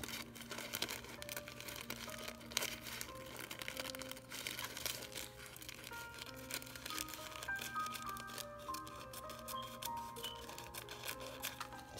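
Scissors snip through a folded paper coffee filter in short, irregular cuts, with faint paper rustling and crinkling between them, close and quiet.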